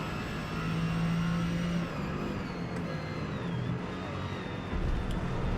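A Ferrari GT3 race car engine in the Forza Motorsport racing game holds a steady, loud drone with a shifting, sustained tone, running alone without talk.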